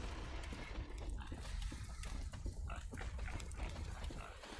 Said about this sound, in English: you might be able to hear a certain pig somewhere around here